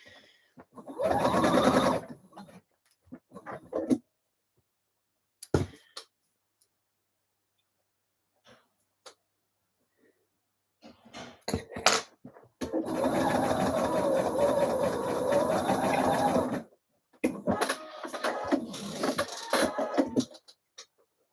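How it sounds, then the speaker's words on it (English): A sewing machine stitches a flounce onto a blouse sleeve in bursts: a short run, then a long steady whir, then another run, with quiet pauses between. "So I'm stitching from the right side so that I can keep this lovely little flounce in position and not get those little gathers caught up"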